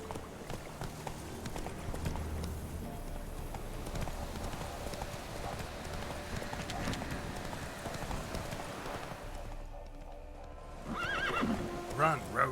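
Roach, the horse in The Witcher 3 video game, gallops with continuous rumbling hoofbeats under game sound, then neighs near the end, while someone speaks over parts of it.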